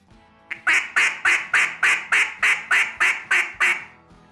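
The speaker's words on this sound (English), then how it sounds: "Now, the sound that we're after in a cut-down call is wanting a short pop" Short, sharp bursts blown on a cut-down duck call, about eleven punchy quacks in a steady, rapid cadence, loud and close, starting after a brief lead-in and ending cleanly.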